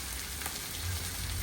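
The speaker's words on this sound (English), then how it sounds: "our oil is nice and hot. We're gonna go in there with the onions first" Onions dropped into hot oil give a steady, dense sizzle and crackle, close and fairly loud, with no talk over the brief stretch.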